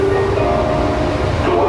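A loud, steady rumble of a moving airport train car at Dallas Airport, with a faint tonal whine riding over the low mechanical drone.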